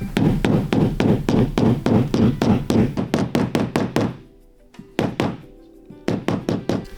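Hammer blows land on a leather punch in a rapid, steady series of sharp thunks, then a short pause, a few more strikes, another gap and a final quick burst, all loud and close with no talking.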